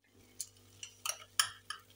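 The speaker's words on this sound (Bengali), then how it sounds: "এই যে ঘি দিয়ে দিলাম।" Ghee going into a pan of thickened milk with cashew powder, heard as a run of light metallic clinks and scrapes from a spoon against the pan, about five sharp taps in two seconds, fairly quiet.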